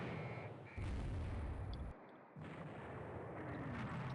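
Missiles firing in the naval video game Rule The Waves 3, a loud booming burst of launch blasts and rumbling roar that cuts out briefly, then resumes as a dense continuous din.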